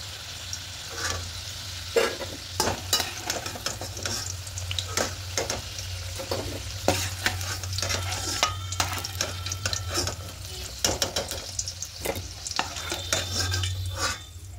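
Potatoes sizzle in frying oil while being stirred, a continuous crackle broken by frequent sharp clicks and scrapes of a utensil against the pan.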